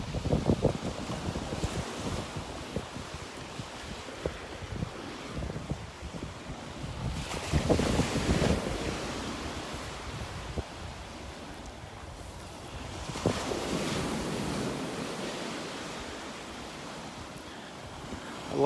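Ocean waves breaking on the beach in North Naples, Florida, rolling surges that swell and fade in slow cycles under steady wind noise on the microphone, moderately loud, with no talking.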